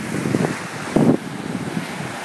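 Ocean waves and wind at a beach, with loud, blustery wind noise buffeting the microphone and a rushing surge of surf building and washing through, close and rough.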